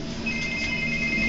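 A cell phone rings inside an Otis elevator at a Belk store in Haywood Mall, Greenville, a steady electronic ringtone over a constant droning background hum.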